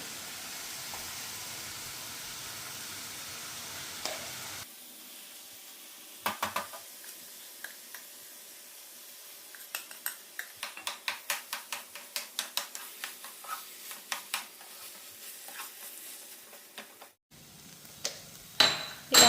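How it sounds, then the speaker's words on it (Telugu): Mashed potato being stirred into frying onion masala in a pan for Maharashtra-style vada pav, a steady sizzle giving way to repeated soft scraping and stirring strokes, close and clear with no talk. "మనం ఆల్రెడీ స్మాష్ చేసి పెట్టుకున్న ఆలు మిక్స్ చేసుకోవాలి."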